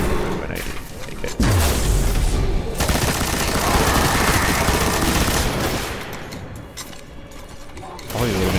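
Grenade blast and rapid gunfire from the video game Destiny, a loud dense barrage with a heavy boom near the start, mechanical weapon clatter throughout, and a player talking over the action.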